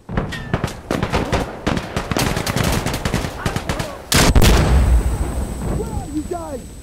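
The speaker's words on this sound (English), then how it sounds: "Artillery coming! Stay back!" In the Insurgency Sandstorm co-op map Farmhouse, artillery rounds crash down amid rapid gunfire: a loud, dense run of sharp shots, then a heavy close blast that rolls out, with voices shouting.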